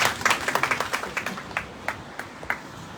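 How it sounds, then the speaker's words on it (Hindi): Audience applause for participants at a Rakthkosh Foundation Day celebration, with scattered individual claps thinning out over a few seconds. "जोरदार तालियां सभी प्रतिभागियों के लिए।"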